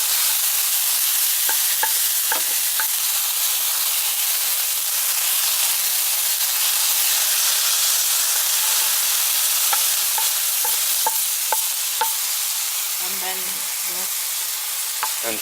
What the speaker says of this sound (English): With water, so it's going to fizzle.